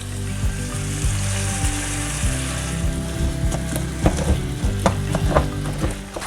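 Ground beef browns in a pan with onion and jalapeno, sizzling steadily while a spatula scrapes and clacks against the pan in irregular strokes, close and fairly loud, with no talking.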